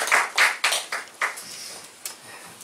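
Welcoming applause at a church gathering: a few separate, distinct handclaps at a slow irregular pace, fairly faint and thinning out toward the end.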